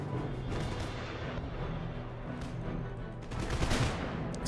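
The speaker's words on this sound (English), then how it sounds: "Artillery have done good." Artillery cannons firing in the Napoleonic-era strategy game Empire: Total War, a dense, continuous roll of booming shots with rumbling battle noise that swells louder near the end.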